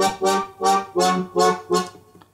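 A synthesizer plays five evenly spaced, sustained notes in a steady rhythm, bright and clear with a short fading tail, no voices.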